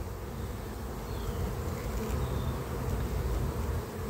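A promising honeybee colony with its queen hums in a dense, continuous buzz while the hive is opened for inspection, close and steady with no talking.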